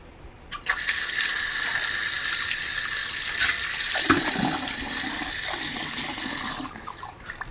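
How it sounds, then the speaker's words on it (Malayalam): Water gushes steadily from a tap into a pot for washing rice, a continuous rushing splash close by that runs for several seconds before cutting off. "അരി കഴുകാൻ വെള്ളം പിടിച്ച്"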